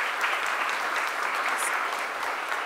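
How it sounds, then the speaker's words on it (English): A round of applause for a visual artist at a gallery exhibition in a city hall courtyard, with moderately distant crowd clapping that stays even and steady throughout. "Let's give him another round of applause."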